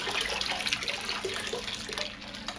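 Hot water from a previously boiled electric kettle pours steadily into a large container, a continuous soft splashing stream close by, with no talking.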